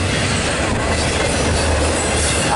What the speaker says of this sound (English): Train's going past me.